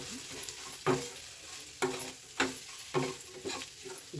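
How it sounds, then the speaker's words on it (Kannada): Grated coconut dry-roasting in a pan for Mandya-style drumstick-leaf chutney, stirred with a spatula that scrapes the pan about six times at an uneven pace, close up over a faint background hiss, with no talking. "ಸ್ವಲ್ಪ ರೋಸ್ಟ್ ಆಗಬೇಕು, ಕಾಯಿ ಹಸಿ ವಾಸನೆ ಹೋಗಬೇಕು."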